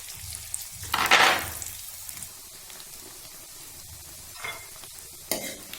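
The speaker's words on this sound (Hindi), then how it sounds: "अब इसमें हम प्याज डालेंगे और इसको मीडियम ब्राउन करेंगे।" Onions hit hot ghee in a kadhai with a brief loud burst of sizzle, then a quieter frying hiss broken by a couple of short spattering flare-ups, close by.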